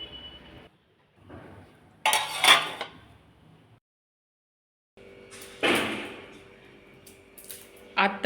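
Moong beans are tipped into a dish to soak in a home kitchen, giving a few bright clinks and rattles of grains and vessel in two short bursts separated by quiet gaps.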